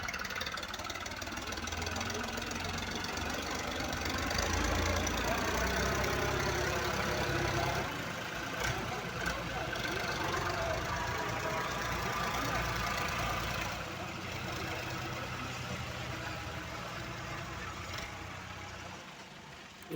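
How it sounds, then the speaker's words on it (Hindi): Tractors fitted with front and rear blades work at a construction site, a steady rumbling diesel engine note that swells and eases over time, loud and continuous. "आज 2 ट्रैक्टर लगे हुए हैं"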